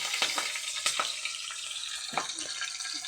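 Mustard seeds fry in hot oil, a constant hiss broken by a few sharp crackling pops, close and fairly quiet.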